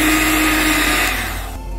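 An electric mixer whirs steadily through cake batter of flour mixture and milk for a pistachio saffron cream cake, a loud, close, continuous motor drone that eases slightly toward the end.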